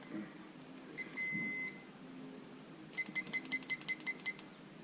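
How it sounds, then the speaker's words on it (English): A kitchen-style timer gives one long beep, then a rapid run of about eight short, evenly spaced beeps as its buttons are pressed, faint over a quiet room hum. "we're setting our timer for 8 minutes."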